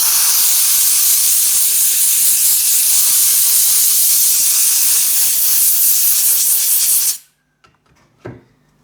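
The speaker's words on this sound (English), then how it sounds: "let's blow it with some compressed air and see how it looks." Compressed air blasting over a sanded cast brass machinist hammer, a loud continuous close hiss that cuts off abruptly near the end, followed by a few faint clicks and a brief soft knock.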